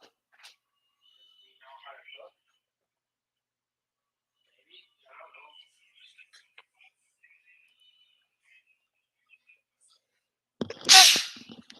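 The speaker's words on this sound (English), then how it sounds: "I just sneezed." A single sharp sneeze bursts out loudly near the end, after long quiet stretches broken by faint, scattered voice-like sounds.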